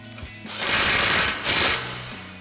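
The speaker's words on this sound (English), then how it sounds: "Tighten it back down again with our 21 mil socket." An impact wrench with a 21 mm socket tightens a nut on the front suspension of an F-150 during a leveling kit install, giving two loud close rattling bursts in quick succession.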